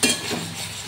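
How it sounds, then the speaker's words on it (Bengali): Spice paste stir-fried in a pan for paneer and broccoli: a short, close burst of sizzling hiss with a faint scrape of the spoon, brief and fairly loud. "করে মশলাটা আমি কষে নিচ্ছি।"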